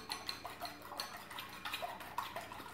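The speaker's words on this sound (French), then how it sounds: "Meilleure façon avec la fourchette, c'est de crever les deux jaunes d'œufs. Ensuite, simplement le brasser." Fork beating two broken egg yolks in a bowl, a fast run of light clinking taps against the dish, steady and close with no talking.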